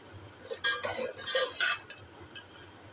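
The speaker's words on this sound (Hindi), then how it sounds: "इसके अंदर दाल को भी अच्छे तरीके से भून लेती हूँ, इसको फ्राई करती हूँ" Moong dal being fried and stirred in a pot for khichdi, heard as scattered metallic clinks and scrapes of a spoon against the pot, a few close bursts of stirring over quiet background.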